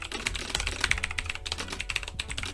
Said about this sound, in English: I love the clicky sound my keyboard makes when I'm writing.